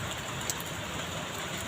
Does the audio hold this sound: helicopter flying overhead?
no